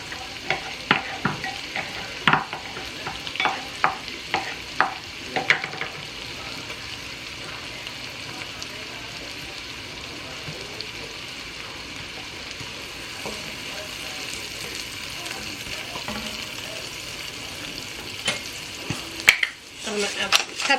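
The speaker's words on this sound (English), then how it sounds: "To that, I'm going to add my garlic and the rest of my onions." Garlic and onions frying in a pan give a steady close sizzle, with clicks and scrapes of stirring sharper near the start and end.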